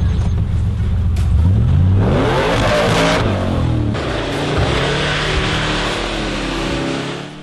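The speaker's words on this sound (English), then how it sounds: "Pathfinder has pretty good approach and departure angles" Nissan Pathfinder engine revving loudly as the SUV climbs through a steep ditch, rising in pitch with throttle then settling into a steady, rumbling drive close by.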